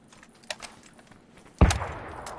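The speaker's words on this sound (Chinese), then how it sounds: "炮楼开枪了。" Gunfire from a watchtower in a battle-royale video game: a faint early shot, then a sharp loud burst that rings out and decays, with no voices.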